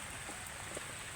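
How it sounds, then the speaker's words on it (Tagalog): Heavy overnight rain falling steadily in Tanauan, Batangas, a dense even hiss of downpour with no other sounds standing out. "Grabing ulan dito, magdamag."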